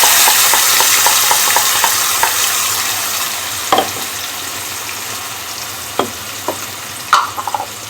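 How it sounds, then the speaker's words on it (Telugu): Ground paste hits hot oil with fenugreek in a pan for a village-style brinjal curry, giving a loud, steady frying sizzle that fades slightly, with occasional spoon scrapes and stirring knocks. "మేతి వేస్తున్నానండి, పట్టి పెట్టుకున్న పేస్ట్నంతా ఇందులోకి టర్న్ చేస్తున్నానండి."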